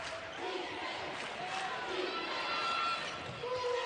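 Crowd noise fills a women's college basketball arena as home fans roar behind the Mississippi State Bulldogs defense against Jackson State, a steady, dense wash of cheering and shouting with a few squeaks from the court.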